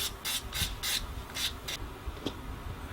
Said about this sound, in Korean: 이렇게 사포질을 한번 계속 하도록 하겠습니다.